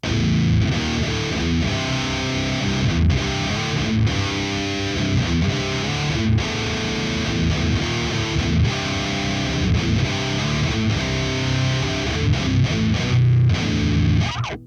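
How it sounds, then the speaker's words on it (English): Jackson King V electric guitar played through distortion, a dense, continuous overdriven tone with strummed chords and short breaks between phrases, loud and up close with no talking. "Okay, now let's go to distortion."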